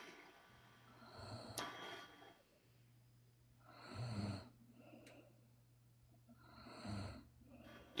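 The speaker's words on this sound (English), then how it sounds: "she unmuted and then started snoring" Snoring from someone asleep on an online call: three slow, soft snore cycles of breathy snorts spaced a few seconds apart, faint and close to the microphone over a steady low hum, with no other voices.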